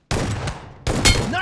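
Two sharp gunshots in BGMI, each a loud crack with a short decaying tail, separated by a brief pause.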